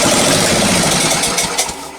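An old lawn tractor engine fires up briefly, giving a loud, rough burst of mechanical noise that fades after about a second and a half.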